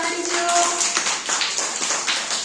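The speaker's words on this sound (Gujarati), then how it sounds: "સરસ મજાની તાળી જોરદાર" Young balwatika schoolchildren clap together in a classroom, a dense, ragged burst of small hands slapping in quick irregular rhythm, steady and fairly loud throughout, with a faint voice briefly underneath.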